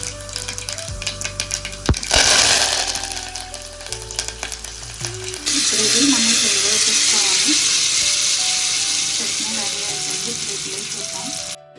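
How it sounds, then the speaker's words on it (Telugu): Chana dal and mustard seeds frying in hot oil for a tempering: a loud, even crackling sizzle that swells and holds steady, with a voice talking over it early on. "పప్పు శనగపప్పు వేసుకోవాలి ఆవాలు వేసుకోవాలి ఇది కొంచెం ఫ్రై అయిన తర్వాత కరివేపాకు వేసుకొని ఆఫ్ చేసుకోవాలి"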